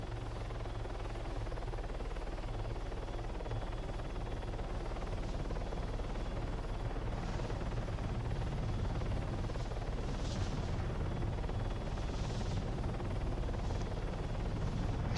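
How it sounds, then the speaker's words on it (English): A helicopter flying in the video game Arma 3 gives a steady, continuous rotor and engine drone throughout, loud and unbroken, with no talking. "I swear I hear another chopper behind us"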